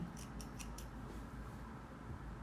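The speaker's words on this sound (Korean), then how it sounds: "실표뜨기 실을 자를 때는 쪽가위를 사용합니다." Small thread-snipping scissors cut basting thread during tailoring of a shawl-collar jacket, giving four quick, crisp snips close by in the first second over a steady low room hum, with no talking.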